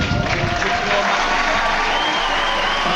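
A packed figure skating arena at a European championship in Poland fills with dense, continuous applause and crowd noise, close and loud throughout.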